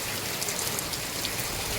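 Cold rain falls in a steady, even hiss with soft patter on surfaces, continuous throughout, with no voices.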